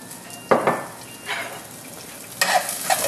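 Potatoes, then scallions, hit hot oil in a pot with sharp bursts of sizzling, three separate additions each flaring up then settling into a softer fry.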